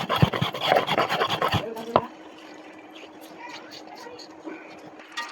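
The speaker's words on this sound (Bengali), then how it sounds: "আর আদাটা আমি একসঙ্গে বেটে নিব।" Ginger and radhuni spice are ground together by hand, with a quick run of sharp scraping, rasping strokes that stop abruptly, followed by quieter scattered rubbing and small taps.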